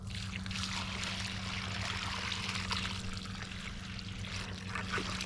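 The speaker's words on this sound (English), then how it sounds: "I'm going to just finish this off by watering it really, really well" Water poured from a container onto a newly planted bare-root McIntosh apple tree, a steady close trickle and splash soaking into soil, with a low hum in the background and no talking.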